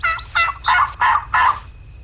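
A wild turkey gobbles in the hunting video game Turkey Hunting Unlimited, five loud rattling bursts in quick succession, close and clear, then fading into quiet.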